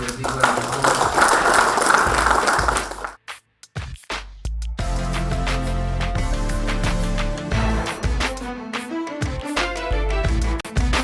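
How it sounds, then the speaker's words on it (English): Audience applause and cheering for a brewery sponsor of a PNG rugby league team at a televised event: a dense burst of clapping for about three seconds, then a brief pause before loud music takes over. "Let's give Stan and SP Brewery a big round of applause."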